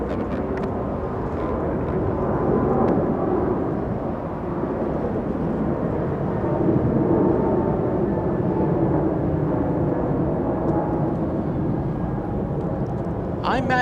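A United Airlines jet climbing out after takeoff from Los Angeles International Airport makes a loud, continuous, broad roar that holds steady throughout.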